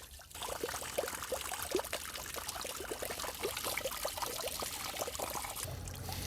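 Water pours steadily into a container outdoors at a campsite near a caravan, a continuous splashing trickle that carries on for several seconds with no voices.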